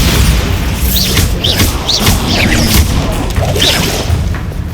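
Bombarda spell explosions from Hogwarts Legacy on Xbox Series S, a loud booming blast with crashing impacts and whooshing spell sweeps over a continuous dense rumble.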